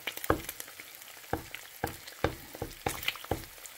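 Breakfast food sizzling and frying in a pan, with a steady crackle broken by sharp clinks and scrapes of a utensil turning it, close and moderately loud with no talking.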